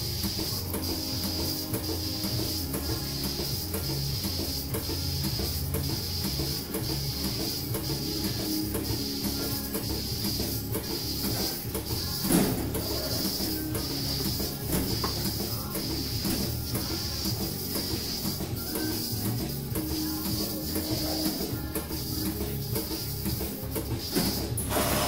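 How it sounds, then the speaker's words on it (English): A robotic milking machine at a dairy farm detaches its cups and sprays post-dip on the cow, a steady mechanical whir with rhythmic ticking pulses and one brief louder burst midway. "it sprays on post-dip, which kills bacteria until the next time that she milks, and it goes back to the wash position and sanitizes itself"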